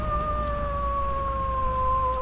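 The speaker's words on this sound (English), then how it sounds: "He freaking howls." D-Dog, the wolf-like companion dog in Metal Gear Solid V, gives one long sustained howl, loud and close, its tone sliding slowly downward over a low rumble.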